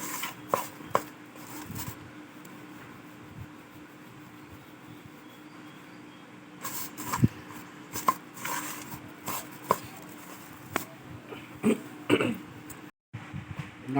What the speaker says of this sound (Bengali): এইভাবে ভালো করে মিক্সড করতে হবে